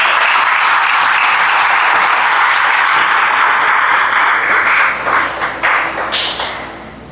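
A church congregation applauds during a pastor's sermon, loud dense clapping filling the space and then thinning out into a few scattered claps at the end.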